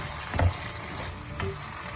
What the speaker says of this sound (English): We have to fry after adding in the green curry paste.